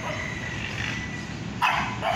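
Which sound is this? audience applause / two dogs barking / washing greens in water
two dogs barking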